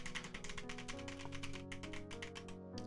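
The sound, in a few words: rapid key presses on a gaming keyboard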